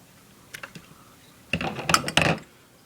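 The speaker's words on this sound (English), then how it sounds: "Now you're going to grab some scissors and you're going to line it up with the chimney" Scissors snipping the wick of a Zippo lighter lined up with the chimney, a few faint clicks first, then a louder cluster of sharp metallic cuts up close, with no talking.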